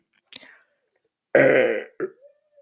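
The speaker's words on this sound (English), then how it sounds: "that burp was wild" A single loud, drawn-out human burp erupts after a brief throat noise, followed by a short trailing grunt, in an otherwise quiet indoor setting.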